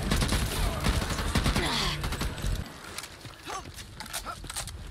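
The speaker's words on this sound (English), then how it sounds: "I was getting shot on the back right now" Rapid volleys of gunfire in the co-op zombie shooter Back 4 Blood, fairly close and dense for the first couple of seconds, then giving way to quieter game ambience.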